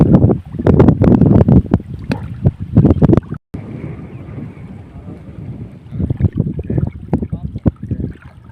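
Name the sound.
strong wind blowing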